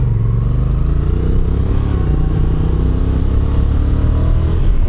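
Honda NT1100 DCT inline two-cylinder motorcycle on the road, its steady, loud low engine drone with a pulsing exhaust note running continuously up close for about five seconds, with no talk.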